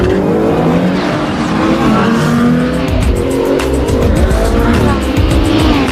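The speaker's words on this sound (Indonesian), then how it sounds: "Sylvain langsung gaspol ikut balapan melawan supercar itu." Cars race a supercar around a circuit: loud engines rev and accelerate with tires squealing and skidding, close and continuous, with intense high-pitched engine tones rising and falling throughout.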